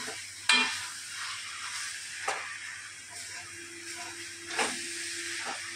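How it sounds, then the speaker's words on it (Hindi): Bottle gourd fries in melted ghee as it is stirred, soft sizzling with occasional scraping clicks of a spoon against the pan, fairly quiet and close. "घी में लौकी को हम अच्छे से भून लेंगे।"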